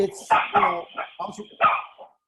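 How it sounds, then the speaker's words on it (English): A dog barks several times in short, close bursts, mixed with a person's voice. "That's me. That's my dog."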